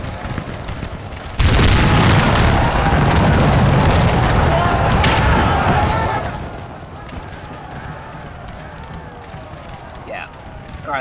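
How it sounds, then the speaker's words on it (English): Russian musket troops firing volleys in a Total War Grand Battle Mod battle: a sudden loud crackling roar of massed gunfire that holds for several seconds, then fades to distant battle noise, with someone talking over it. "Some fresh troops firing."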